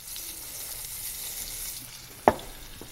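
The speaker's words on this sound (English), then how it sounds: "sizzling good" Food sizzles steadily in a hot pan, a constant hiss, with one sharp clink partway through.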